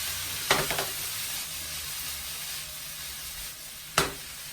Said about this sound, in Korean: 고기를 넣고 볶다가 거의 완성 단계에서 고추를 넣어서 더 볶아주겠습니다